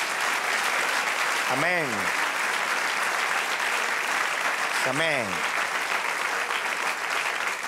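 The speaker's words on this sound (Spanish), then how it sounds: "Si creemos, denle un aplauso, alábele." Church congregation applauding in steady, loud, continuous clapping that fills the room, while voices call out briefly over the applause twice.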